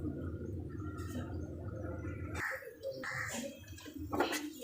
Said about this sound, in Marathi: बघू शकता आमटीला मस्त अशी उकळी आलेली आहे